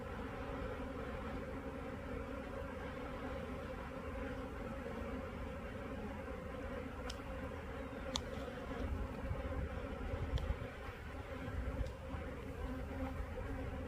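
Honey bees buzz around a comb frame in a beehive, a thick, continuous drone of many wings close by, with a few faint clicks and handling knocks near the end and no talking.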